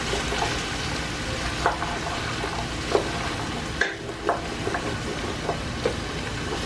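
Chopped vegetables for a chicken noodle soup cook down in a pot with a steady, close sizzle, punctuated by a few sharp scrapes and taps of stirring; no one speaks.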